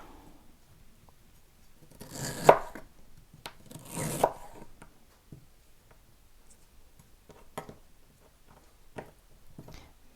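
A knife slices through salmon on a board in a handful of soft, scraping cuts, two louder strokes followed by lighter, scattered taps in a quiet kitchen.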